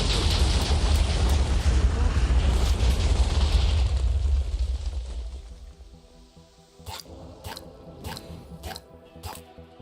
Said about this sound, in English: Explosions happen.